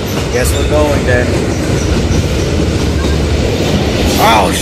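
A video game train rumbles steadily with clattering wheels as it arrives, a brief squeal rising near the end, in a continuous loud mechanical roar.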